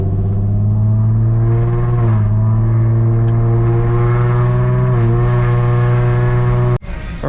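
A Nissan 350Z pulls away and accelerates, its engine a loud, steady drone that dips briefly in pitch at a couple of gear changes before a sudden cut near the end.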